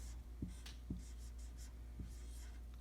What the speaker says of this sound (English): then I write the number 2